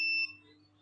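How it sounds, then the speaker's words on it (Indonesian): A nutrient-empty indicator device sounds its buzzer alarm: a steady high electronic tone that cuts off after a fraction of a second, leaving a faint low hum behind. "Nah, ini ada indikasi LED nyala, terus buzzer juga menyala."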